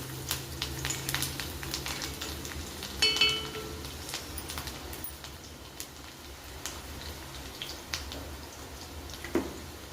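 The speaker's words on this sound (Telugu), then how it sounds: "వెల్లుల్లి రెబ్బలు 1 స్పూన్, ఇది ఫ్రై కావాలి" Quiet, steady frying sizzle of garlic cloves in oil, with faint crackles and a couple of soft clinks partway through.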